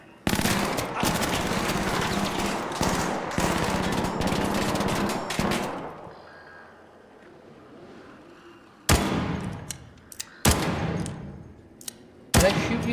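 Rapid automatic gunfire in a video game rattles loudly in long bursts, drops to a quiet lull, then returns as several sharp separate shots, with no talk over it.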